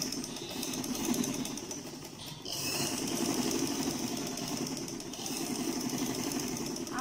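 A sewing machine stitching pleats into fabric with a long, full-length stitch runs as a fast, steady mechanical chatter, close and loud. A brief dip in the middle is followed by continuous running.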